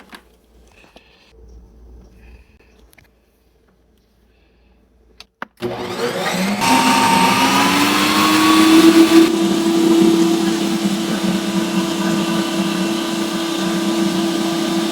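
After a few faint clicks and near silence, a Ninja Creami ice cream maker whirs to life loudly, a steady high motor drone that continues to the end.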